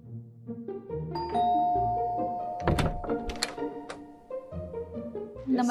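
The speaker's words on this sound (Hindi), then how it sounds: "और अब चलिए बजाते हैं किसी घर की घंटी।" A doorbell at a house rings with a clear ding-dong chime, along with a few dull thuds and tonal background sound.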